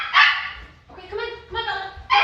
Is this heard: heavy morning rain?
no